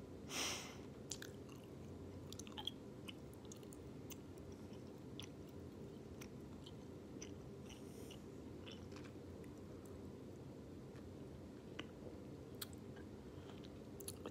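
Someone chews a really big ball of sweet bubble gum close to the ear, with steady wet, squishy smacking and biting sounds going on throughout, and no talking.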